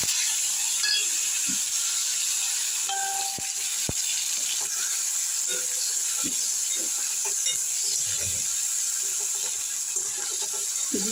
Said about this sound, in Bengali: এবার আমি এর মধ্যে ক্যাপসিকাম কুচি, টমেটো কুচি আর কাঁচা লঙ্কা কুচিটা দিয়ে দেবো।